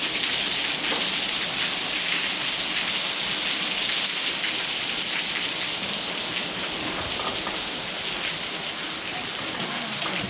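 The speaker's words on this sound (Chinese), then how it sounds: "好像前面有瀑布。" Water pours steadily over a waterfall somewhere ahead, a dense, even rushing roar that holds unbroken for the whole stretch, with no voices over it.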